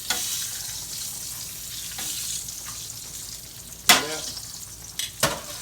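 Breaded green tomatoes and yellow squash frying in oil: a soft continuous sizzle, close by, with a few brief louder bumps and scrapes as pieces are turned, no speech.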